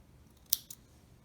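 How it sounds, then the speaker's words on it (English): A thread snipper cuts excess sewing thread from a fabric coaster: two quick, crisp metallic snips about a fifth of a second apart, close and fairly quiet, with no talk. "I'm going to take my thread snipper and snip off all the excess thread that is sticking out"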